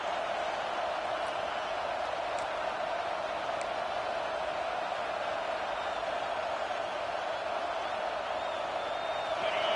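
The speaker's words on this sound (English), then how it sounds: "This crowd knows when to bring it." Stadium crowd at a Florida State versus Alabama homecoming football game, a constant distant roar of many voices that holds steady throughout.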